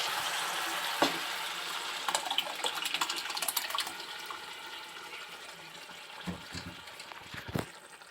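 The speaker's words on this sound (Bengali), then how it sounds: "কষানো হয়ে গেছে এবার আমি সিদ্ধ করে রাখা ডালটা দিয়ে দেবো" Boiled mung dal is poured into a pan of fried fish head and spices in a village kitchen, giving a steady wet sizzle and bubbling hiss with scattered scraping and stirring clicks throughout.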